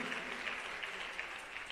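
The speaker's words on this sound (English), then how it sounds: "keep the applause coming" Sustained audience applause fills a scholarship awards presentation ceremony honoring physical therapy students, a steady dense clatter of many hands clapping with no pauses and no talk over it.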